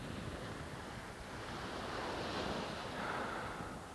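Sea surf rolls and washes continuously onto the shore at a seaside wedding, a broad steady roar that swells slightly midway, mixed with wind buffeting the microphone and no voices.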